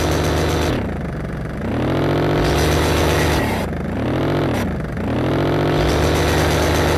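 A motorcycle engine in a Brazilian motorbike video game revs up and down repeatedly, loud and up close, its pitch dipping and climbing in several swells over a steady drone, with no one talking.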